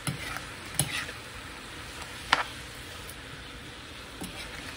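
Garlic shrimp being stirred in a hot pan, a low continuous sizzle with occasional soft scrapes and clicks of the utensil against the pan, heard alone and fairly quiet.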